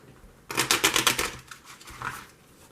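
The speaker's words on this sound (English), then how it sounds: "the treasure cards, and just mix them all together and just shuffle it together" Treasure cards and other cards for the Dungeon Flee board game are shuffled together. A close, crisp run of riffling flutters lasts about a second, followed by a few softer card shuffles and taps.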